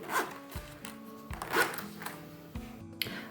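A zipper slider is pulled along the zip of a black faux leather bag in several quick, close raspy strokes, each followed by a short pause, faint and with no talk.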